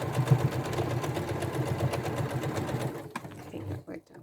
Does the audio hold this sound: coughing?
no